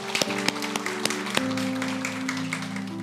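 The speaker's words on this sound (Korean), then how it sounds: "우리 축복과 격려와 위로의 박수로 함께해 주시면 감사하겠습니다" A church congregation at a Sunday service claps in blessing and encouragement for two deacons, a steady patter of applause at moderate distance over a sustained tonal hum.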